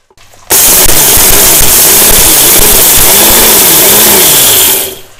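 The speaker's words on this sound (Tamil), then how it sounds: "இதை நம்ம வந்து மிக்சியில் வந்து கொரகொரன்னு அரைச்சி வச்சுக்குவோம்." A mixer grinder coarsely grinds roasted sambar powder spices in a short loud burst: it starts abruptly, a steady whirring motor roar runs with a gritty rattle, then it cuts off.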